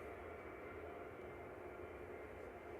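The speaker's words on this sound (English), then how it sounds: "Here goes the Aer Lingus GEILA A330-300 heading over to Orlando with flight 935." An Aer Lingus Airbus A330-300 airliner passes overhead near Manchester Airport, a steady broad engine roar holding at a constant, moderate level throughout without voices.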